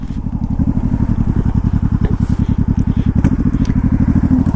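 A motorcycle billed as a good beginner's bike idles close by with a steady, rapid thumping pulse, running smoothly and loud throughout with no voices.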